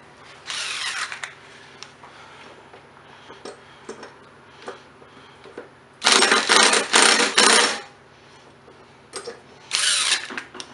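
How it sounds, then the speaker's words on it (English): An impact wrench rattles on a bolt of a Briggs and Stratton lawn mower engine in three loud hammering bursts, the longest lasting about two seconds, with quieter handling noises between them. "Hit it one time with your impact just to be safe."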